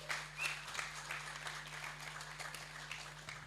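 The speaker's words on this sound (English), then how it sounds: "I think we should give her another round of applause." A soft, distant round of audience applause at an AI showcase and launch event, faint and fairly even, with a low steady hum running underneath.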